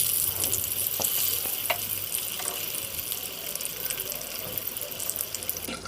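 Slices of pointed gourd coated in salt and turmeric fry in hot oil, a steady crackling sizzle with fine spitting pops that carries on without pause for several seconds, close and fairly loud.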